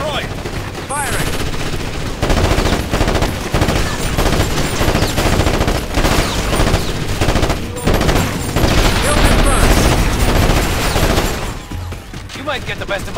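Sustained bursts of automatic gunfire in the video game Ghost Recon Advanced Warfighter, loud rapid rattling with dense overlapping shots and only brief pauses, continuing for several seconds.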